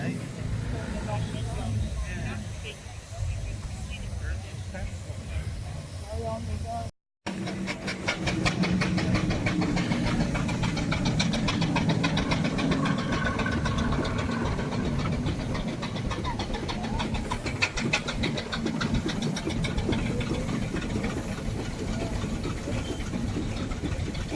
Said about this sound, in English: the traction engines here